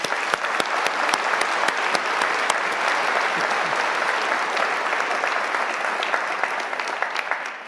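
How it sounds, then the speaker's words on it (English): A crowd at a university convocation ceremony gives a long, even round of applause, many hands clapping densely and close, with sharper individual claps standing out. "Please give her one more round of applause."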